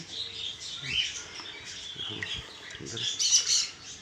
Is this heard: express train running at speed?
no